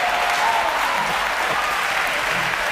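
An audience at a debate on cosmology bursts into loud, dense applause, steady and sustained from start to finish, filling the hall with no voices standing out.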